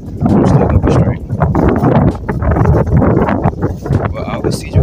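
Gusty outdoor wind buffets a microphone on a cold morning, a loud continuous low rumble that swells and dips throughout while a person talks over it.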